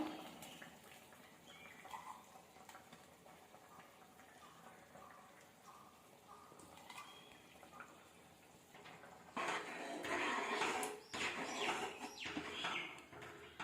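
A spoon scrapes and clinks around inside a pot of curry as ground coconut, fennel and cumin are stirred in, growing busier and louder toward the end, with a faint background hum and no speech.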